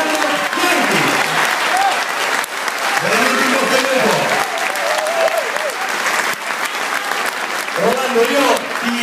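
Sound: audience applause

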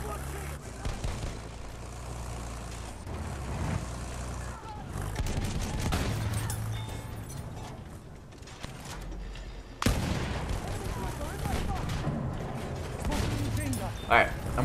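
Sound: enemy machine gun fire in video game Battlefield 1

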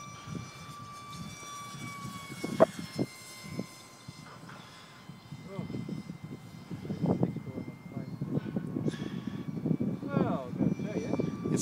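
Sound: radio-controlled model airplane flying

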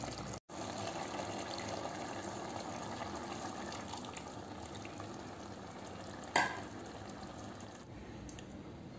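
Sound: thick coconut milk poured and stirred into pumpkin stew

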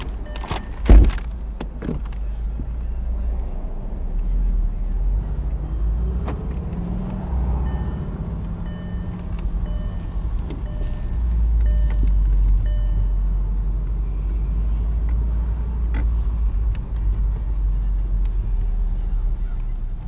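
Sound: 2013 Volkswagen Beetle Convertible driving around a parking lot

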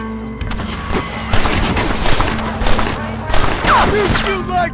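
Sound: gunfire in shootout, Red Dead Redemption video game

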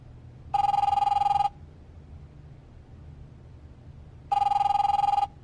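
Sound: telephone ringing in The Wolf Among Us video game

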